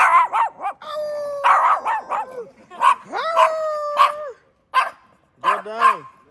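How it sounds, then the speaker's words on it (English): A dog named Bella barks and yips in loud, close bursts, with drawn-out howl-like whines between the barks and a person talking in between. "Stop barking at me."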